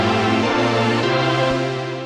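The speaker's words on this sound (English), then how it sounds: "And together this fill sounds like this." A layered synth fill of Omnisphere brass and choir patches with a Serum preset, a loud sustained chord with a short note change midway that rings on and fades slowly at the end, heard alone.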